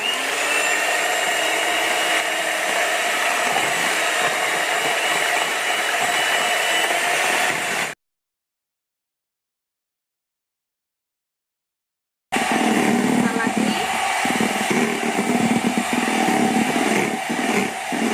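An electric mixer beats chocolate steamed cake batter with a steady, high whirring drone that cuts out abruptly partway through, leaves a few seconds of silence, then resumes at the same level.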